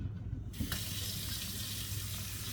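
A kitchen tap runs into a pot to fill it with water for boiling spaghetti, a steady close splashing gush that starts abruptly and continues evenly under a low background hum.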